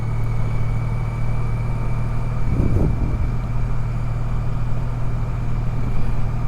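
A 2013 Honda Pan European touring motorcycle cruising at 50 km/h gives a steady engine and road drone, broken by a single soft thump about midway as it rolls over a speed bump.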